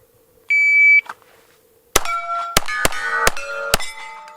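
A shot timer gives a short electronic beep, and after a pause a Sig 227 pistol fires five sharp shots at an uneven pace, each followed by the clang and ring of a hit steel plate, loud and close outdoors.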